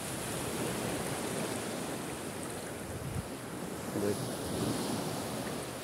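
Ocean surf rolls steadily onto the shore in a continuous wash, with wind buffeting the microphone throughout.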